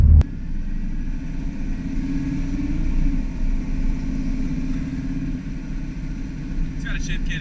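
A custom 1977 Chevy C-10 truck with a shift kit on the move, its engine giving a steady loud rumble that swells and eases, heard from inside the cab, with a brief clatter near the end.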